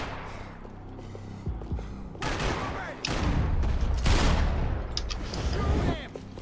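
Rapid bursts of gunfire from the Max Payne 3 shooter game, loud, dense volleys with heavy thuds and booms. Several sustained fusillades come one after another, with a voice mixed faintly underneath.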